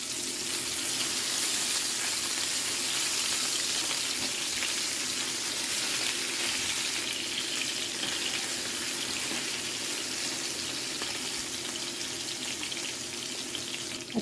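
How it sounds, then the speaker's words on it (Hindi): Garlic ginger paste frying in an oiled pan for Pakistani masala chili kofta, a steady close sizzle and crackle that keeps on without a break, with no one speaking. "अब इसमें हम डाल देंगे लहसुन अदरक का पेस्ट।"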